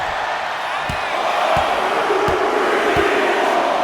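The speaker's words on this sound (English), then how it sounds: "Jacob Fatu getting the crowd involved here" A wrestling arena crowd roars in a broad, steady wash of cheering, with rhythmic stomping or slamming thuds every second or so mixed into the din.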